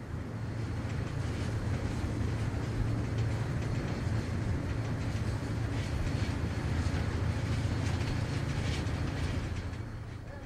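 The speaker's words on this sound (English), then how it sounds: "Between the sound of the train and the helicopter overhead" A train rumbles steadily past in rugged canyon country while a helicopter drones overhead, the combined low roar continuous and loud with wind buffeting the microphone throughout.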